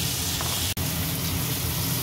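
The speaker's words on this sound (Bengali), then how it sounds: "এই ফুলকপিগুলো একটু ভেজে নেব, হালকা লাল করে একটু ভেজে নেব।" Cauliflower pieces seasoned with turmeric and salt fry in a pan until lightly browned, giving a steady, even sizzling hiss throughout, broken by one brief dropout, with no voices.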